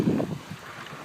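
Strong wind buffets outdoors in the aftermath of the February 2013 blizzard Nemo, a brief loud rumbling gust against the microphone that eases into a softer rush.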